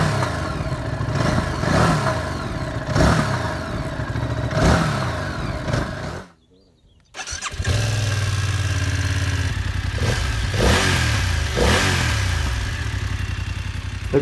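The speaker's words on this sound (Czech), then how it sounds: "Pojďme si porovnat zvuk motoru." A BMW F900XR and a Ducati Multistrada 950 S motorcycle are heard one after the other, each engine idling and then revving in repeated rising bursts, close and loud, with a short silent break between them.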